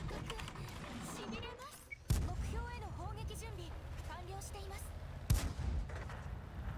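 A Pz. IV H tank cannon in a video game fires shells in two loud, booming shots a few seconds apart, over steady engine rumble, with someone talking throughout.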